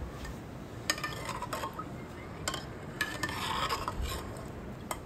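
A spoon stirs black peas with salt and water inside a steel pressure cooker, giving a few soft, scattered scrapes and clinks over a quiet, hissy background.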